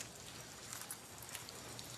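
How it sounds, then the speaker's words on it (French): Steady rain falls across a Taiwanese street scene, a soft continuous patter with scattered brighter drops, moderately faint, no voices. "Il pleut."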